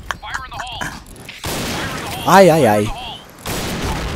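A bomb goes off in the shooter game Point Blank: a sudden, loud, wide blast that rolls on for a moment while a player cries out over it amid other gunfire noise.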